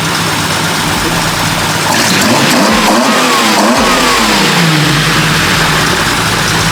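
A car engine roars loudly and steadily, climbing through a rev and dipping briefly before surging again, with no voices.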